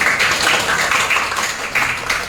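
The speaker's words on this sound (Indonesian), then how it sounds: "tepuk tangan dulu dong untuk kita semua" Students clap together in a classroom, a brief burst of dense, overlapping handclaps at moderate loudness with no talking.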